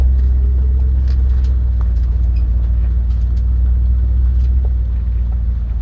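Car driving along a road, a steady low engine and road rumble filling the interior evenly and continuously, fairly loud with no talk.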